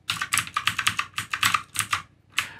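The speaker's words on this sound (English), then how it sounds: "So I can use my keys to sort of move around." Computer keyboard keys clatter as a BBC Micro game is played, a quick, irregular burst of close, crisp presses that pauses briefly and then ends on a final tap, with no talking.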